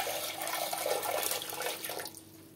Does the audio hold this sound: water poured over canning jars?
yes